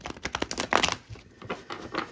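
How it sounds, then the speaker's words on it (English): A deck of tarot cards being shuffled at close range, a quick run of papery riffles and slaps for about a second, then softer scattered card rustles. "Just going to shuffle."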